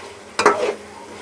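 Meat for a chicken and potato stew stirred in a hot pot, giving a short, close burst of scraping and sizzling that fades back to quiet.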